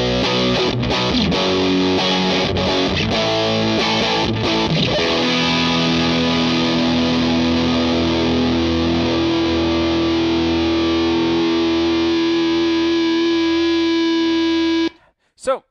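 Electric guitar through a Bearfoot FX Dyna Red Distortion pedal in its 4-knob version gives a loud, thick, saturated tone: a busy opening passage, then a long sustained ringing chord that cuts off near the end.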